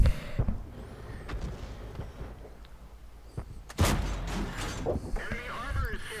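Cannon fire from tier 5 tank destroyers in World of Tanks, with a sharp, loud boom midway followed by rumbling battle noise, alongside earlier mechanical clanks and a softer thud.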